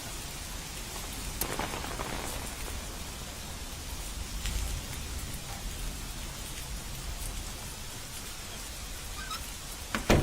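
Steady rain falls on a lazy Sunday, a soft continuous hiss of drops with occasional louder patters, fairly quiet and uninterrupted by talk.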